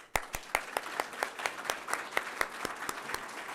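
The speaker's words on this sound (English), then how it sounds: "Let's clap really loud." An audience at a career and technical education signing day event claps loudly in a steady, fast unison rhythm, with sharp close claps repeating for several seconds and no talking.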